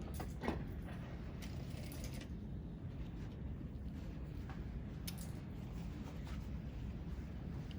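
A sewing machine stitches a jeans seam, a steady low mechanical whirr and rattle running throughout with faint clicks, close and quiet, no talk.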